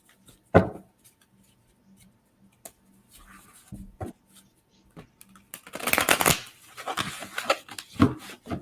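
Playing cards are shuffled and riffled at close range, with a sharp snap early on, scattered light flicks, then a dense, louder burst of riffling toward the end, with no talking.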